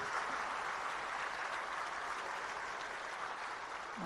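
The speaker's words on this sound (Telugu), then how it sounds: "ముందుగా మన అందరం గౌరవ ముఖ్యమంత్రి గారిని చప్పట్లతో ఈ కార్యక్రమానికి ఆహ్వానించాలని మీ అందరినీ కోరుకుంటున్నారు" Audience applause at a Telangana government event welcoming Chief Minister Revanth Reddy, a steady dense wash of clapping from a crowd, moderately loud and continuous with no speech over it.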